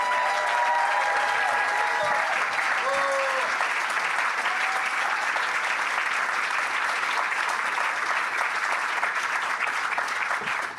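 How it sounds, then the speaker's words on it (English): A poetry festival audience at Emily Dickinson's house breaks into sustained, dense applause that stays loud and even from start to finish, with a few faint voices and cheers rising over the clapping. "I think maybe another round of applause for them."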